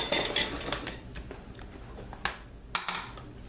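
A small cutting board is set down among dishes in a kitchen while scrambled eggs are being made. Light clinks and scrapes of crockery and utensils lead to a couple of sharper knocks near the end.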